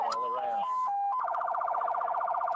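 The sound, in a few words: siren on truck outfitted like law enforcement vehicle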